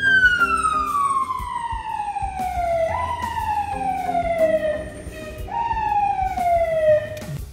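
A fire truck siren wails in city traffic in an older downtown Toronto neighbourhood, loud and close, with long descending sweeps that jump back up twice and carry on steadily over low road noise.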